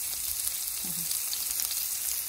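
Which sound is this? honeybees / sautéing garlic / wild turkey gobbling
sautéing garlic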